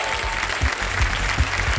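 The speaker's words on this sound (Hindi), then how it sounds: "जोरदार तालियों के साथ इनका स्वागत किया" A studio audience at the Kaun Banega Crorepati Season 14 game show applauds to welcome contestants: dense, steady clapping from a large crowd fills the whole stretch at a strong, even level.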